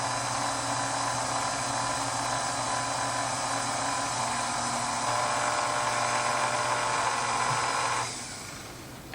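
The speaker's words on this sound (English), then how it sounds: "you can run your KitchenAid a little bit faster" KitchenAid stand mixer driving a pasta roller attachment, a steady loud electric motor whine with a constant mechanical hum that holds for about eight seconds, then winds down abruptly.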